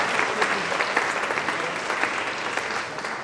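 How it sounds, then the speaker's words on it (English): Audience applause at a veterans' Stand Down event at UConn, steady and fairly loud clapping from a room full of people, sustained throughout with no voices over it. "let's give a round of applause"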